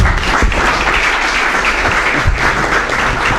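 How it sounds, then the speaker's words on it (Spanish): Steady, dense audience applause fills a conference hall after a panel session on work and workers, a full room clapping together for two presenters and holding an even level without pause. "un aplauso para los dos expositores"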